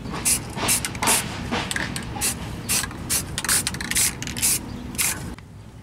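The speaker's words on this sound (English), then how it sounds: "I'm going to give this coat of Rust Reformer and a coat of glossy black" Repeated bursts of aerosol spray paint, Rust Reformer and then glossy black, coating a rusty Honda ACTY mini truck gas tank, a dozen or so short hissing blasts in an irregular rhythm, close and fairly loud, ending in quiet.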